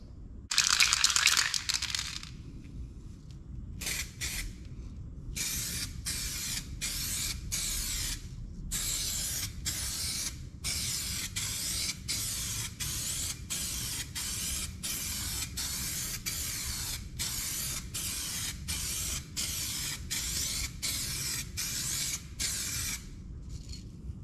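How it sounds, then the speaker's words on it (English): A spray gun lays a coat of clear over primer on a Kyle Petty Mello Yello race car body, hissing in repeated regular bursts separated by short pauses, close and fairly loud with no talking. "let's spray 1 coat on that primer and see how it looks"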